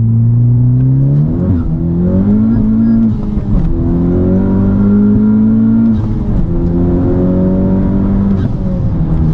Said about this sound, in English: I haven't given you a pull in the Type R in a long time.